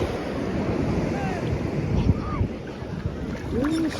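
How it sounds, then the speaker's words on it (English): Ocean waves wash steadily at JBR beach in Dubai, a continuous surf roar mixed with strong wind buffeting the microphone, with faint voices in the background. "You can see the waves coming from."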